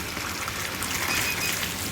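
Water gushes in a steady, close, continuous pour from a coin-operated water ATM dispensing five litres, with no voices over it.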